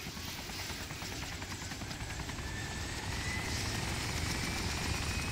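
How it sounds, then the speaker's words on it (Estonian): A helicopter in the DayZ mod for Arma 2 makes a continuous, loud rotor chop and turbine drone. The sound stays steady and swells slightly as it flies, and no one is talking over it. "Nüüd see kopter nagu on reaalselt lennatav ka, noh."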